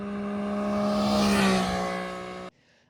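A Honda Beat kei car's three-cylinder engine with independent throttle bodies revs up in a loud, rising, buzzing wail, swells to a peak, then eases off and cuts abruptly near the end.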